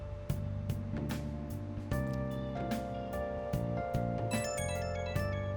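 A phone ringing in Persona 5, a repeating electronic ringtone melody over a steady game music backdrop, clear and close.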